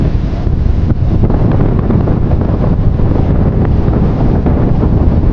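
Strong wind blasts straight into the microphone outdoors near the sea, a loud, continuous, rumbling roar with gusty buffeting and no pauses.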